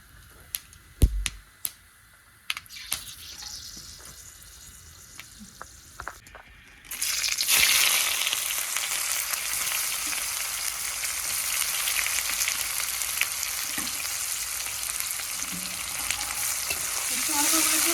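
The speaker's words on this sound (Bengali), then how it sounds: "লবঙ্গ ফোড়ন দিয়ে দেবো।" Whole cinnamon, cardamom and cloves hit hot oil for tempering in a chicken and potato curry, a few sharp knocks first, then a sudden loud burst of sizzling that stays steady and close to the end.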